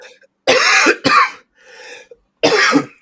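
A cat coughs and retches to bring up a fur ball, three loud, close hacking bursts separated by short pauses, with a softer wheeze in between.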